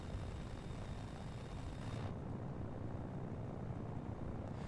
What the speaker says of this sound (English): when we have the helicopter blades running